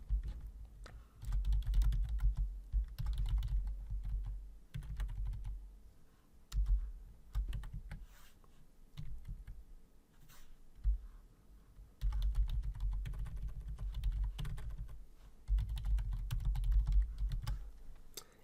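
Bursts of rapid keyboard typing on a computer, entering a course number and name into a web form; clicky keystrokes run in clusters with short pauses, close and fairly quiet, with no talking.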